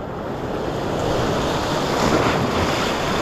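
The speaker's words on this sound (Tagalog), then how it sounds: "Lakas ang tilamsik guys." Strong sea waves crash and splash against the shore during a rainy lure-fishing outing, a loud continuous roar of surf with wind buffeting the microphone.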